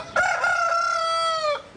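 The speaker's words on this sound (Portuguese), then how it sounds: "Despertava junto com o galo." A rooster crows once in a single long, loud cock-a-doodle-doo, close and clear with no talk over it.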